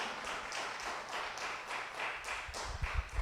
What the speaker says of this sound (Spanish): Vamos a darle un fuerte aplauso al Señor.